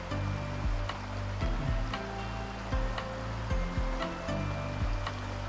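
Water rushes and splashes steadily over rocks, with repeated low thumps mixed into the flow, close and fairly loud.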